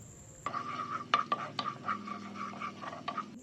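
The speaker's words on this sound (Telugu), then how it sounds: "ఒక స్పూన్ అల్లం వెల్లుల్లి పేస్ట్ వేసి పచ్చివాసన పోయేలా ఒక్క నిమిషం ఇలా వేయించండి" Ginger garlic paste fried in hot oil in a pan gives a steady soft sizzle under someone speaking Telugu, with spoon scrapes and stirring clicks against the pan.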